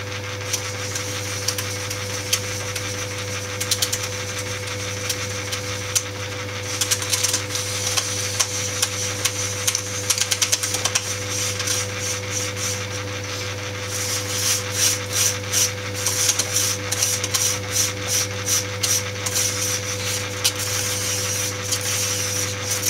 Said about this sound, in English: So spindle mounted in the lathe.